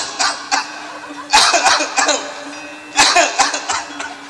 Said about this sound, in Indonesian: Tiba-tiba raja batuk.